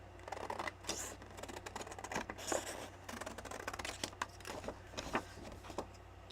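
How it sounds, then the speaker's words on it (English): Scissors trimming the border off a sheet of paper, quiet close snips and crisp paper rustles in an irregular run, with no talking. "Let's get our scissors and cut the border off of this"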